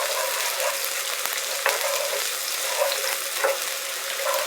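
Shallots frying in avocado or grapeseed oil over medium-high heat, giving a steady, close, even sizzle with a few soft clicks and no talk.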